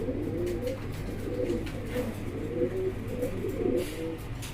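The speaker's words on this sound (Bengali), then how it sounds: "এখানে কিন্তু আরও এক জোড়া কবুতর দেখতে পাচ্ছেন, আর এটা হলো এক্সিবিশন কবুতর।" Fancy exhibition pigeons coo in soft, low, rolling phrases that repeat over a faint constant background hum, close by and with no talking.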